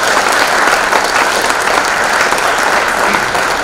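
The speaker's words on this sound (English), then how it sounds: "So a round of applause for our city council members," An audience at a city council political debate applauds, steady, loud, close clapping throughout.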